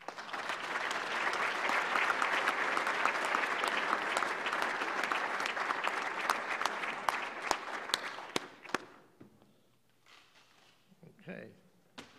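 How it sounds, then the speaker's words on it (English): A large crowd applauds steadily for about eight seconds, the clapping thinning to a few last claps before quiet and a brief voice. "Another round of applause."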